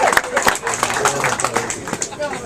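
Crowd at someone's speech for a magazine launch breaking into scattered, brief clapping, sharp irregular claps mixed with talking and murmuring from the audience.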